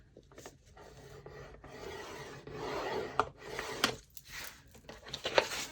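Sheets of 11 by 17 paper are scored with a tool, giving soft, raspy scraping strokes in uneven runs with a few light taps, quiet and close with no talk.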